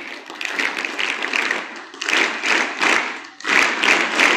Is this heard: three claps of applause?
yes